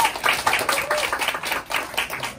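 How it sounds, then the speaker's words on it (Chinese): An audience at a business presentation in a Taipei hotel claps together, producing a lively, uneven patter of hands with a voice faintly audible underneath. "借助各位掌声为我鼓励一下"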